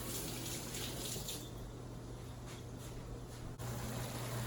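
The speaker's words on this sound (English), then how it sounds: "Wash my hand off." Tap water runs steadily into a sink while hands are rinsed under it in a home kitchen, a continuous close splashing hiss with one brief interruption near the end.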